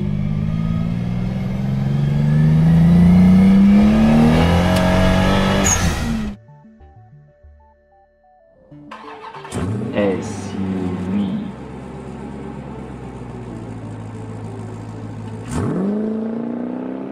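A convertible car's engine revs and roars past up close, drops away into a brief quiet beeping, then more passing vehicle noise with whooshes.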